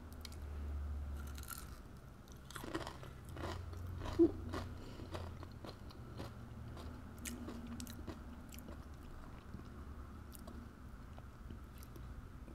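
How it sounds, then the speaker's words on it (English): Kohakutou, Japanese sugar crystal candy with a crisp sugary shell and a soft jelly inside, is bitten and chewed close to the microphone, giving sharp crunches and then softer repeated chewing. "the outside has a really nice crunch"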